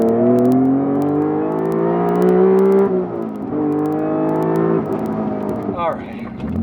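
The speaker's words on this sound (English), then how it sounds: "It's still got that high revving VTEC howl." A high-revving supercharged VTEC engine howls, rising and falling in pitch through several downshifts and revving toward 8,000 rpm, with a person talking over it.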